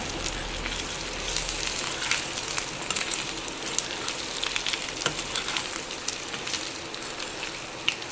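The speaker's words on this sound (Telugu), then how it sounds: "ఒకసారి కలుపుకుందాం అనమాట" An egg pickle mixture with chilli powder fries in a pan, crackling in a dense, even sizzle with faint stirring scrapes throughout, close by and with no voices.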